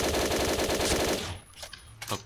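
Rapid automatic gunfire in the shooter game Point Blank's survival mode, a loud, fast, even burst that stops abruptly, followed by a couple of softer thuds.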